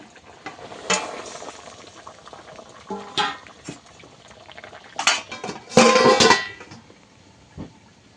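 A sour carp curry broth with taro bubbles in a pan, a low simmering burble broken by several louder bursts of bubbling and clatter from the pan, close and fairly loud.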